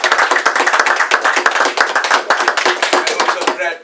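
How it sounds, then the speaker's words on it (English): A room of guests at a cricket club presentation party claps steadily for a few seconds, a dense patter of close hand claps with a faint voice under them. "I think Brad deserves a great round of applause."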